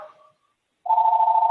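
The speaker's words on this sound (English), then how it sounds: "I apologize for that phone ringing" A telephone rings during a design review commission meeting: a short faint tone fades out, then after a pause a loud, steady electronic ring starts and holds to the end, with no talking over it.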